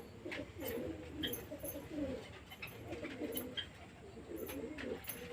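Soft, low cooing of Giribaz pigeons repeats in rolling phrases, fairly quiet and close, with faint clicks and rustles in the background.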